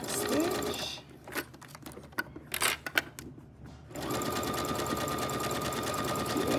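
Sewing machine stitching a zigzag, a fast steady mechanical whir and chatter, close and continuous, that pauses briefly with a few clicks and handling sounds before running again.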